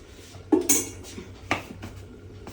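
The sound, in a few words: lid placed on cooking pot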